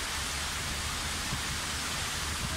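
Heavy rain pours steadily during a sudden thunderstorm, a dense continuous hiss of water close by, with no thunder clap standing out and no talk.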